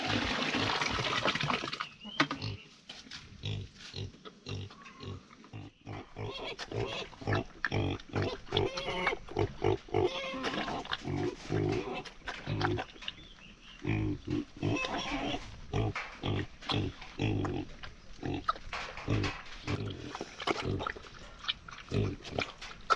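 A pig grunts repeatedly while a farmer in rural Nepal feeds it by hand, the grunts close and steady throughout, with splashing water and feed noises mixed underneath.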